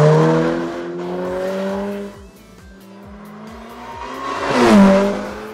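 Ferrari F8 Spider accelerating hard in race mode, a loud engine climbing in pitch through the gears, easing off briefly, then surging again to a sharp peak near the end, close by with no voices.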